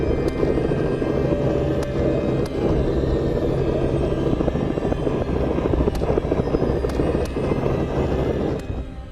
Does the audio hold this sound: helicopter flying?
yes